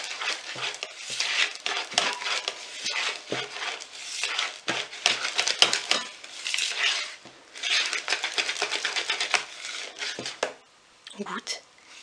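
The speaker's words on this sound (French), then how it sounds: "On mélange tout." Tiramisu ingredients being mixed in a bowl, with continuous close scraping and clinking of utensil against the bowl in uneven bursts, and a voice speaking briefly near the end.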